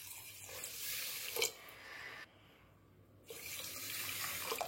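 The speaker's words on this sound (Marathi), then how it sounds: "आता यामध्ये पाणी घालायचं आहे।" Water runs steadily into a pan of sugar for gulab jamun syrup, a close, moderate splashing pour. It stops for about a second and then resumes.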